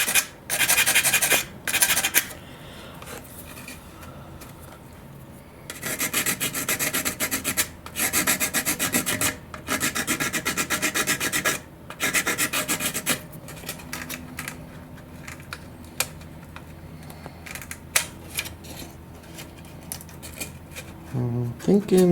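Wooden parts for a model glider's tail boom are smoothed with a file, giving bursts of dry rasping strokes that come close and loud, then thin out into scattered scrapes and small handling noises.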